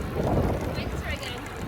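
Gusting wind buffets the microphone while cycling outdoors on a cold, windy day, a steady broadband roar that swells early and then eases slightly, close and loud, with no voices.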